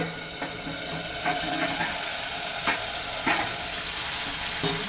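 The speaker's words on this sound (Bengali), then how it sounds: "এখন এটাকে একটু ভালো করে নেড়ে চেড়ে দিচ্ছি" Chicken curry being stirred in a pan, with a steady sizzle of frying and several scraping strokes of a spoon at irregular intervals, close and moderately loud with no voices.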